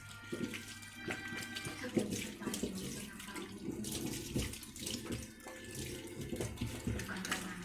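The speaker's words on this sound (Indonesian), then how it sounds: "Bilas kedua tangan dengan air bersih." Clean tap water running over both hands during handwashing, an irregular splashing and trickling close by that stays moderately loud, with a faint voice at times.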